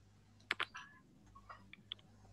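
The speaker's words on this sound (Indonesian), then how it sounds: "Cuma ada suara keyboard HP. Lagi menekan keyboard." A few quiet, irregular clicks of keys pressed on a mobile phone keyboard, close and faint, with a short quick cluster followed by scattered single taps.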